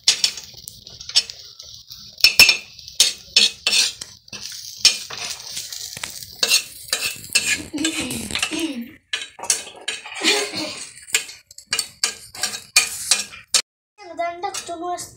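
Food stirred in a pan with turmeric added, heard as a busy series of sharp metallic scrapes and clanks against the pan, close and uneven, while voices talk intermittently.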